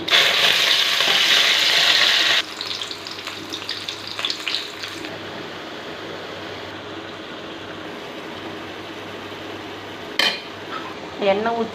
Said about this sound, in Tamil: எண்ணெய் ஊற்றி தாளிச்சிட்டுங்க கொஞ்சம் நேரம் வேகணும்.